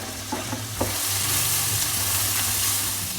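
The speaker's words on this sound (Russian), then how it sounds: "дам овощам слегка обжариться или так полупотушиться" Chopped broccoli and other vegetables with turmeric fry in oil in a pan over medium heat, giving a loud, even, hissing sizzle up close, with a few early clicks of stirring and no speech.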